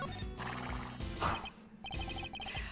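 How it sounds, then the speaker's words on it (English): A pony neighs in the Ace Attorney Investigations 2 video game, a loud close whinny with hoof clip-clops and game music running beneath it, no speech. "They even have ponies."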